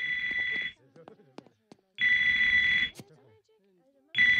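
A telephone stuck inside Joe's back rings in repeated loud electronic bursts in Family Guy, with short pauses between rings where a voice speaks.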